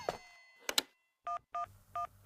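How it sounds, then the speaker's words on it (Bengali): Phone dialing in a Bangla cartoon: a couple of quick button clicks, then a run of four short, evenly spaced keypad tones, clean and close. "ওকে আবারও ফোন করি"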